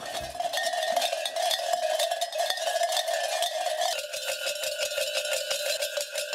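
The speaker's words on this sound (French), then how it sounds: "Avec des ceintures de clochettes empruntées au bétail, les jeunes parcourent les rues à l'occasion d'Apokria, le carnaval en Grèce" Belts of borrowed livestock bells clang as young people parade through village lanes during the Greek Apokria carnival, a dense, continuous metallic jangle with irregular rhythmic clanks, fairly close and without talk.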